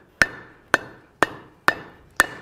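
Five sharp, evenly spaced hammer blows on metal chunks at a Harbor Freight anvil during forge welding, each strike a loud close ringing clang that quickly decays.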